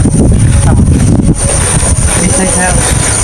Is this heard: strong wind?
yes